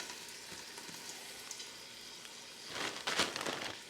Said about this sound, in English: now that the bacon has rendered its fat, I'm going to add about a handful of the frozen diced onion